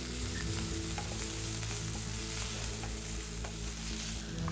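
Chopped green chillies and ginger fry in hot oil in a kadai, a loud, continuous close-up sizzle with light scraping from stirring and a low steady hum underneath.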